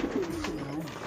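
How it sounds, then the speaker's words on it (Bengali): Pigeons being fed coo softly in a short, close burst while a person talks over them. "সোনুর বাবা কবুতরের খানা দেয়"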